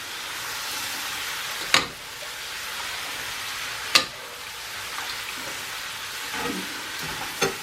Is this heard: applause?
no